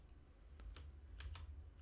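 Computer keys pressed for a Ctrl+C, Ctrl+V copy-and-paste shortcut in 3D design software: a handful of quiet, close clicks spaced unevenly over a low hum.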